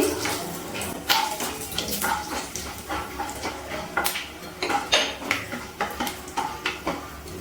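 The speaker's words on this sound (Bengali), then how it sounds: "এবার একটু নাড়াচাড়া করে নিচ্ছি।" Cardamom pods, cloves, a cinnamon piece and star anise are stirred in hot oil in a pan for egg masala, heard as a rhythmic series of close scraping and clinking strokes over a soft background sizzle.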